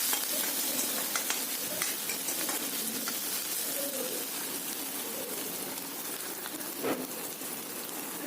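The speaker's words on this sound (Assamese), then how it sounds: "পিঁয়াজটো অলপ ভাজি ল'ব লাগিব" Onion frying in hot oil in a pan over lowered heat gives a close, steady sizzle, with occasional stirring scrapes and pops, and no talk over it.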